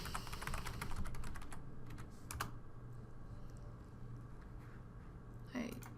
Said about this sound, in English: I needed to type the www.